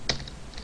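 A few quick taps on a computer keyboard while typing Java code, one sharp keystroke followed by lighter clicks, close and brief.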